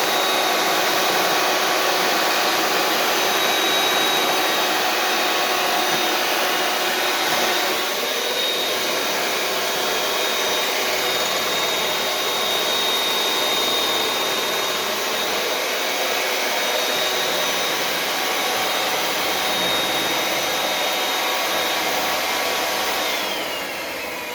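Electric mixer beats sugar-free chocolate cheesecake batter in a loud, steady, continuous whir lasting throughout, close to the listener and with no talking.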